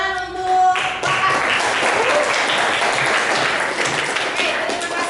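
Classroom applause for a student after a presentation: a dense burst of clapping from many hands that fills the room, steady for several seconds before tapering slightly, with a brief tonal murmur at the start.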